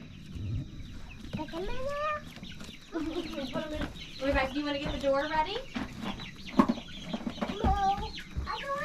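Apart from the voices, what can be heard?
chickens clucking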